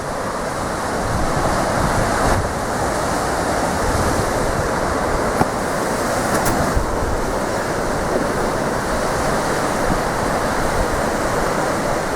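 Ocean waves break against the cliffs, arch and stacked rocks at St Govan's Chapel in a steady, broad roar of surf, with wind buffeting the microphone and no voices.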